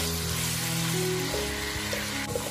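Pork belly and ginger slices stir-fry in a wok, a dense steady sizzle with a low hum underneath and a few soft scrapes near the end, close and constant.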